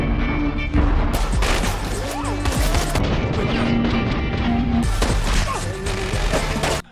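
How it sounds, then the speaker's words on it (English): A chaotic film shootout with bursts of gunfire, sharp crashes and impacts piling up loudly over several seconds, the dense action mix running nearly continuous. "A chaotic shootout ensues."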